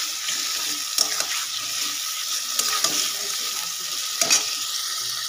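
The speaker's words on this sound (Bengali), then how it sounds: "এটাকে আমি 10 মিনিট মতো মশলাটা কষে নেব ভালো করে" Masala spice paste frying in a pan while being stirred for a loitta fish curry: a steady broad sizzle with occasional scraping spoon strokes, close and fairly loud, no talking.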